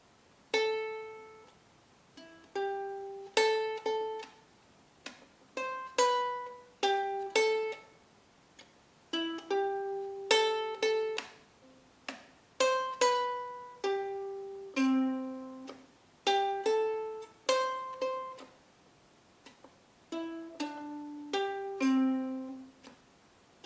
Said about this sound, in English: which features a groove which is typical of the reggae genre